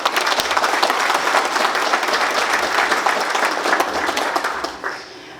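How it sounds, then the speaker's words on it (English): A crowd's sustained applause, dense and steady for several seconds before tapering off quickly at the end. "So everybody, a round of applause for Chenyi."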